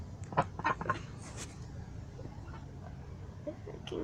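Hens clucking in a backyard bird pen that also holds a duck, a few short close clucks near the start, then a quieter stretch with faint calls and pen noise.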